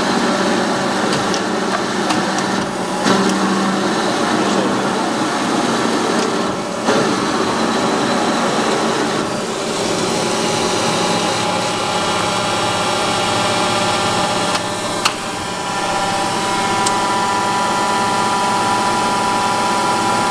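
A WMW (UMU) 320x1500 surface grinding machine runs steadily in a workshop, giving a continuous, loud mechanical hum and whir with broadband grinding noise and a few brief knocks, with no talking.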